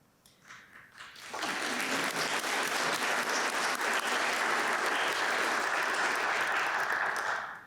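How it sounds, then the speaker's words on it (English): An audience at North Battleford's State of the City address gives a sustained round of applause for the city crews, with clapping swelling quickly after a brief quiet lead-in and holding steady for several seconds before tapering off. "thank you for taking the time to give our crews a round of applause"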